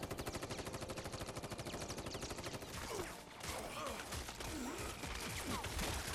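Rapid bursts of automatic gunfire in the video game Final Fantasy VII Rebirth, set in Corel Prison, rattling steadily for the first few seconds and then giving way to denser, scattered shots and game effects.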